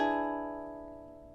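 A single ukulele strum from a song passage, ringing close and slowly decaying over about a second, alone with no talking.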